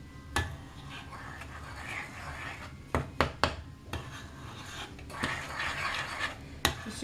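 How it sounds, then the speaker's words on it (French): Cookie dough ingredients with vanilla sugar mixed in a bowl, a soft continuous stirring and rubbing broken by several sharp clicks of the utensil against the bowl, fairly quiet and close. "On va mélanger."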